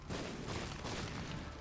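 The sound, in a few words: video game explosions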